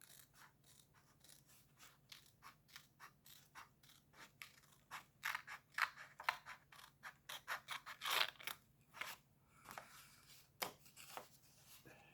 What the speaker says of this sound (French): On va couper déjà une partie à droite, là, en haut.